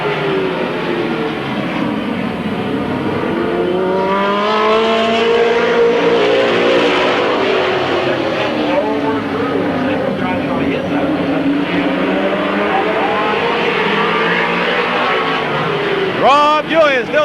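Race cars circling Midvale Speedway in 1995, loud engines rising and falling as the pack sweeps past, with a near car flaring sharply at the end, while an announcer talks over the roar.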